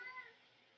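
A house cat meows in protest, one faint, short, rising meow close by and alone.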